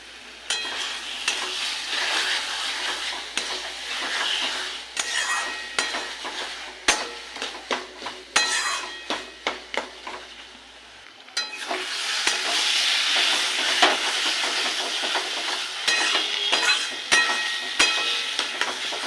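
Taro leaves (kochu shak) cooked with hilsa fish head are stirred round and round in a frying pan, giving rhythmic scraping strokes over a continuous sizzle that swells louder in the second half.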